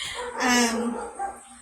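A single dog barks once loudly close by, a short sharp yelp followed by a fainter trailing whine, with no talk over it.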